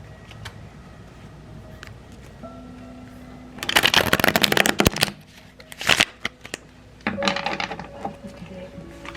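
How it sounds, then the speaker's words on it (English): Close, crisp riffling of a tarot card deck in two or three distinct bursts separated by brief pauses, over quiet background music. "Trying to get in a spot where you guys can see the shuffle."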